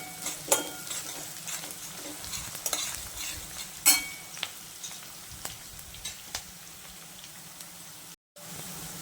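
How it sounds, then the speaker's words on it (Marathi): Onion frying in a pan with ginger and garlic gives a steady close sizzle, with spoon scrapes and clinks from stirring at irregular moments and a brief dropout near the end. "आता कांदा थोडासा भाजत आल्यावर आलं लसूण टाकूया"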